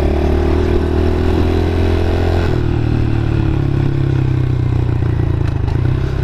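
A Honda CRF 110 dirt bike engine runs loud and steady throughout as it is ridden, its drone shifting in pitch partway through under clattering and scraping from the ride.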